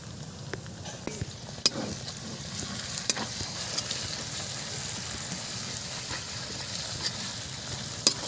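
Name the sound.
frying cumin and coriander paste with cashew, raisin, poppy seed paste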